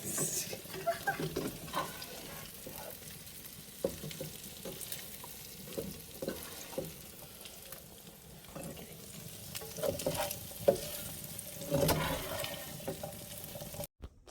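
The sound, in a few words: stirring salt and pepper beef frying in a pan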